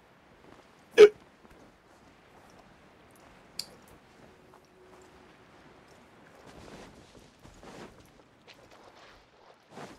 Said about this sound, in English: Oh, these hiccups.